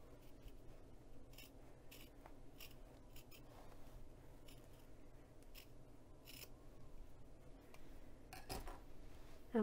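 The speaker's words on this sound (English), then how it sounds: "I'm just going to trim a little bit more." Scissors trim fabric for a clutch purse, making faint, repeated snipping cuts spaced irregularly over quiet background noise.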